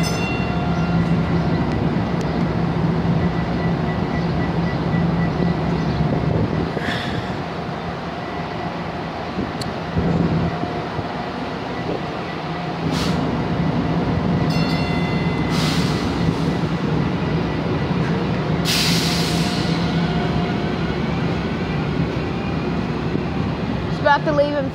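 Steady low rumble and hum of a TRE commuter train idling at a station before departure, with occasional clanks, hisses and squeals over a constant drone, no talking.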